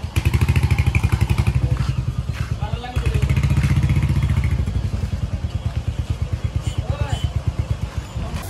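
Royal Enfield Hunter motorcycle ridden slowly on a short road trip to a bike wash, its engine thumping steadily and loudly close by, with a speaking voice over it.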